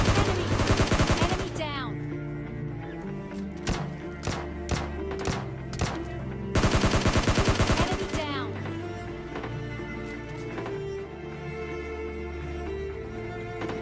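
Gunfire in the PUBG Mobile Lite video game: rapid automatic bursts at the start and middle with scattered single shots between, loud and close over a steady game background hum.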